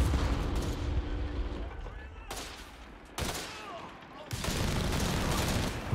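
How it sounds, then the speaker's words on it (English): Incendiary mortar fire from a half-track mixes with bursts of gunfire and booming explosions in the Company of Heroes 3 strategy game, dense continuous battle noise with layered shots, heard alongside a speaking voice. "Good incendiary shot from the mortar half track"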